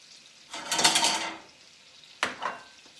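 Large peeled, rinsed shrimp going into a hot pan for shrimp scampi, with two bursts of sizzling and pan clatter, the first longer and louder and the second shorter, over a quiet background.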